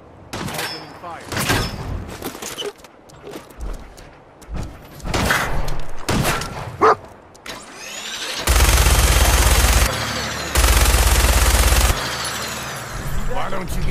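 Fallout 4 combat: scattered single gunshots and short bursts, then long sustained automatic fire in two heavy stretches, with characters speaking during the firefight.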